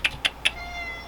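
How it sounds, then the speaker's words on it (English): A pet cat named Chicken meows three times in quick, evenly spaced bursts, close and clear, with a quiet room behind. "That's my cat Chicken."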